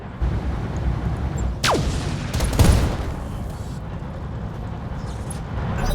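Mech weapons fire in the Battletech video game, with a whooshing missile or laser sweep followed by heavy blasts and rumbling impacts over a dense, noisy battle backdrop.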